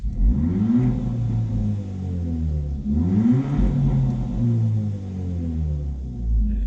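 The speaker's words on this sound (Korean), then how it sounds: "만약에 제가 이 가속 페달 좀 밟아 보면" Hyundai Veloster JS with a 1.6 T-GDi engine revving as the accelerator is pressed, a loud close drone that rises and falls in two swells, steady and alone without talk.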